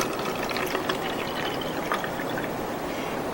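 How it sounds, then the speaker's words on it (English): Water pours steadily into a plastic bottle being filled to make a thermometer, a continuous close trickling and splashing with no talk. "I'm going to take the cap off, and I'm just going to fill this most of the way with water"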